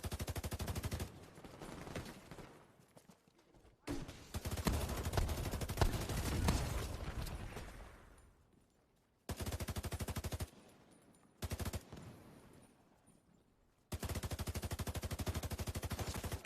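Rapid automatic gunfire bursts in a PS4 shooter game come in several loud, sharp volleys with short quiet gaps and decaying echoes between them.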